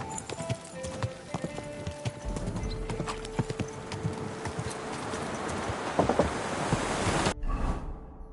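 Horse hooves clip-clop steadily in the medieval game Kingdom Come: Deliverance II, a brisk rhythmic patter over wind and ambient outdoor noise before cutting out near the end.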